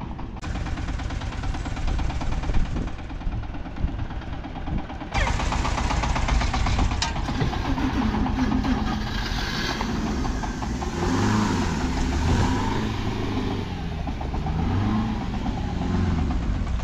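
A tractor engine drags stuck cars free on a campsite near a glacier in Tibet, running as a steady, loud, close mechanical drone that swells and dips in pitch as the load changes.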